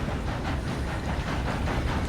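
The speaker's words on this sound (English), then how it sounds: "Oh, here's the train." A train rolls in on rail track, steady broadband rumble and rail noise with a faint hiss, constant and fairly close, no voices over it.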